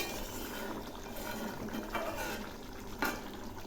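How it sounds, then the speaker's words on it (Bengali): Thick pumpkin curry with fennel simmers in a pan, bubbling and gurgling steadily up close, with a few louder pops, and no one talking over it. "এগুলি আরও বেশ কিছুক্ষণ ফুটবে।"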